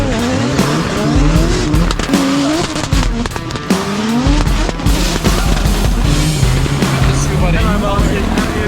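Drift cars warming up at a Drift Masters round in Spain, engines revving and rising in pitch with loud tire squeal and skidding, steady and close, with voices talking underneath.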